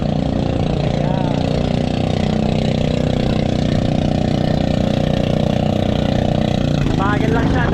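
A small boat engine runs steadily and close by in strong wind, a continuous buzzing drone with no pauses, with a brief higher whine near the end.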